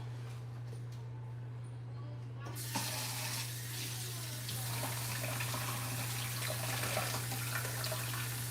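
Scent leaves are washed under a running kitchen tap, a steady close gush of water that starts abruptly and continues over a constant low hum.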